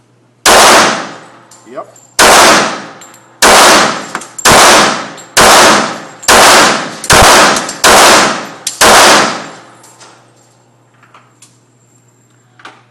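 Nine sharp gunshots from a Kimber Pro Crimson Carry II pistol fired downrange in a steady, evenly spaced string, each loud crack ringing briefly, with a short spoken word afterward.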